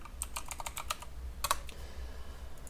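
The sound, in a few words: typing Python code on a computer keyboard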